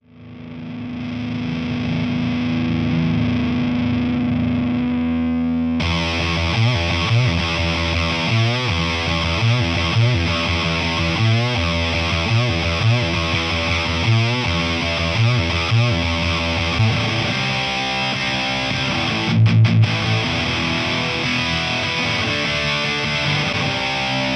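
Distorted Gibson SG electric guitar in a raw tone, first a sustained ringing chord alone, then loud chugging riffs with steady rhythmic strumming and a brief stop near the end.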